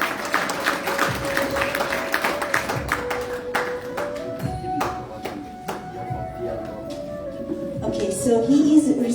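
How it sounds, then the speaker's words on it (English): Audience at a Telugu Raam Bhajana awards function in South Africa claps steadily as recipients ascend the stage, sharp hand claps over a sustained musical tone and background voices, growing slightly louder toward the end. "the claps must keep going on as they ascend the stage"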